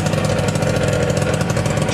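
A Peugeot Speedfight 2 100cc two-stroke scooter engine idles loudly and roughly close by, its steady buzzing putter holding an even pitch throughout.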